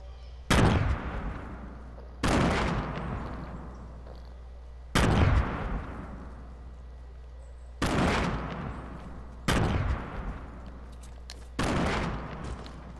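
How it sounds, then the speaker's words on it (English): Gunfire in a video game rings out as six sharp, loud volleys spaced a couple of seconds apart, each bursting hard and trailing off into an echoing decay over a low steady hum. "Somebody's shooting at me"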